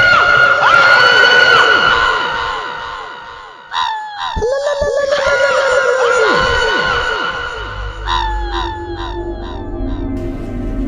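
A witch shrieks and screams in a Hindi horror tale: loud, wavering high-pitched cries rise and fall in several long bursts, with sharp breaks and a rumbling low undertone near the end.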